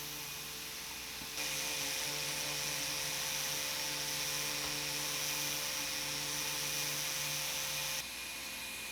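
A wooden furniture top is sanded back to bare wood with a power sander. Its steady, fairly quiet whine with a faint tonal hum starts after a brief lead-in, holds evenly for several seconds, then stops.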